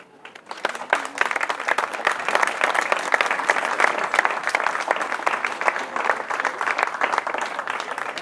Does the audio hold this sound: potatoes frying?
no